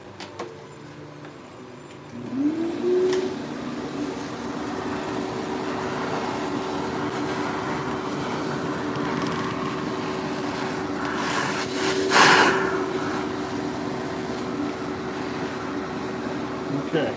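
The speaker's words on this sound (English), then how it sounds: "I might even use the vacuum cleaner here for a second just to see if I can get a little more off of there" A vacuum cleaner starts up and whines steadily at close range while cleaning dust off a wood-turning piece on a lathe, its pitch rising as it spins up, then holding a constant hum with a brief surge near the end.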